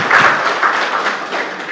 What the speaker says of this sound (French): Je vous demanderai de l'applaudir s'il vous plaît.